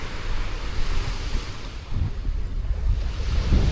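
Waves wash steadily onto a beach on Cuttyhunk Island, a continuous broad roar of surf with wind buffeting the microphone and swelling surges near the end.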